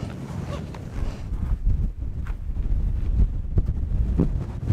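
Strong gusts of wind buffet the microphone on a winter hike through the northern polar night in Finnish Lapland, a loud, continuous roar with rising and falling surges.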